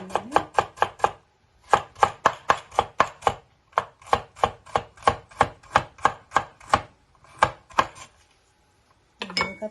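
Knife chopping vegetables for a salad on a board, a fast steady run of crisp, close knocks in bursts, with a pause mid-way and a final few chops at the end.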